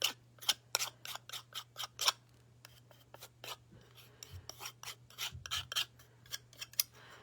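A palette knife scraping paint: a quick run of sharp, close rasping strokes, then a pause and a further irregular set of scrapes in different directions over a low steady hum.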